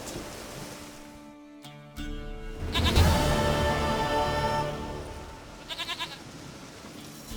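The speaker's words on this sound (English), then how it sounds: "Goat of mine, dearest, sweetest goat." A goat in The Witcher 3 gives a loud, wavering bleat, followed a few seconds later by a shorter, quivering bleat, over quiet outdoor ambience.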